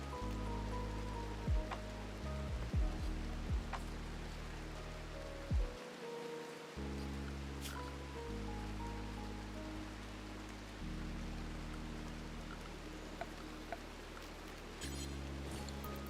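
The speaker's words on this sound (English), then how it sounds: "never leave electronic devices out in the rain" Rain falls steadily in the Rimworld Anomaly colony game, a continuous soft patter with occasional brief clicks and game tones layered over the wash throughout.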